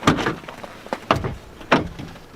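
Folding campervan doors open with a few clunky knocks and rattles as panels move, three main thumps spaced out with small creaks between them.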